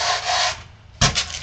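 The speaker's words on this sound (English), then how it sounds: "I'll run the sanding bar over this" A sanding bar is rubbed across a virgin bead foam wing blank in two close, rasping strokes, the first longer and smoother, the second sharper and louder after a short pause.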